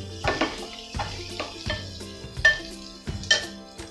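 Potato kheema stirred and mixed in a metal pot, with a spoon scraping and clinking against the sides in repeated strokes about every half second, close up alongside a soft sizzle.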